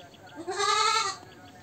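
A single goat with a broken leg bleats once while the leg is being plastered, a loud wavering cry lasting under a second, with quiet background before and after.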